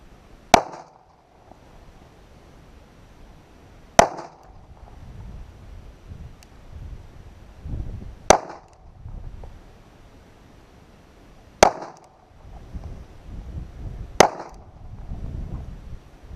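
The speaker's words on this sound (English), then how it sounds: "Now we're going to shoot the Ruger LCP 380." Five sharp, loud gunshots from a Ruger LCP .380 pistol ring out at an outdoor range, spaced about three to four seconds apart, with wind rumbling between shots.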